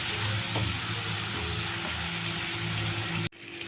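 Chili powder, turmeric, salt and garlic paste frying in hot oil for a potato and green pea curry, a steady close sizzle that holds for about three seconds before cutting off abruptly, with no voices.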